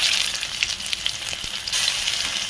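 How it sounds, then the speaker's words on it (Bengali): Spice paste with whole fennel seeds, bay leaf and whole garam masala frying in a pan, a loud close crackling sizzle that continues without a break for the whole stretch. "গোটা পানমৌরি দিয়ে ভালো করে মশলা আমি কষিয়ে নেব।"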